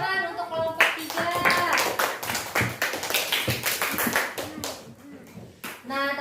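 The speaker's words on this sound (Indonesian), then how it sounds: "Tepuk tangan untuk kelompok 3." Classmates clap for a student group in a classroom, a burst of hand claps and taps running several seconds alongside talk, with voices before and after.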